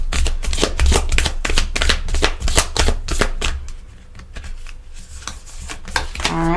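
Tarot cards shuffled by hand in quick repeated riffles, close and crisp, slowing near the end, with a voice in the background.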